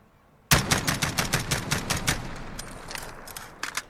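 Rapid burst of SR-25 rifle fire in Call of Duty Modern Warfare, a sharp onset followed by a steady string of about fifteen loud, close shots that taper off, with a few more shots at the end.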